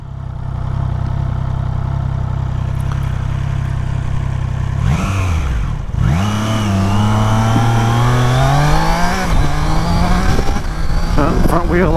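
A 2025 Triumph Trident motorcycle accelerates hard and lifts its front wheel, the engine note climbing through rising revs after a brief gear change, loud and close with steady road and wind noise beneath.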